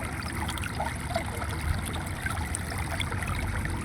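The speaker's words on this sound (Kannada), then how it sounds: "ನೋಡಿ ಎಷ್ಟು ಚೆನ್ನಾಗಿ ಬರ್ತದೆ ನೀರು" Water runs steadily between stones on its way to a pond, a close, continuous babbling trickle with no voices.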